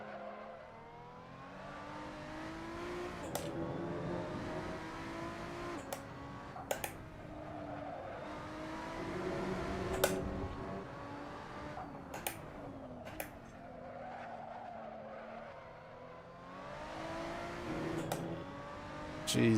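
A race car engine in a sim racing game drones steadily with rising and falling revs through gear changes, punctuated by sharp ticking clicks, with no voices over it.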